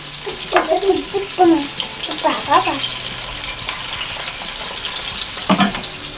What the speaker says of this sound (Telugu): ముక్క కొంచెం ఫ్రై అవ్వాలి ఇంకొక టెన్ మినిట్స్ అలా ఫ్రై చేసుకుందాం